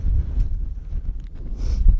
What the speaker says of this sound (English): I imagine you can probably tell how windy it is from the noise